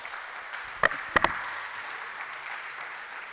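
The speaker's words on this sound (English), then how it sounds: "Let's keep appreciating her with a hand of applause." Audience applause at a church gathering at Christ the King, Cantonments, a faint, steady wash of distant clapping with a few sharper knocks near the start, no voices over it.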